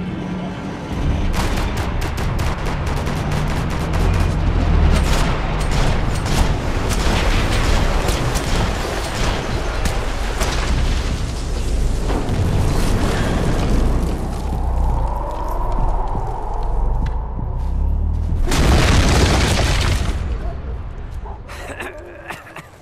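Video game gunfire and explosions from Max Payne 3 on PS3, dense overlapping shots and booms for most of the stretch, then a quieter lull and a final loud burst, with voices shouting over the combat.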